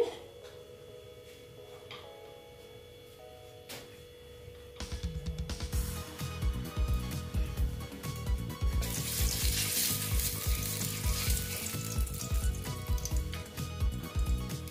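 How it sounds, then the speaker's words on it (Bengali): Oil heating in a wok (kadai), at first quiet with faint crackles, then swelling into a dense, loud sizzle and spatter close by, with no talk. "আর এই যে দেখো তেল দিয়ে দিলাম। তেলটা গরম হতে দিচ্ছি।"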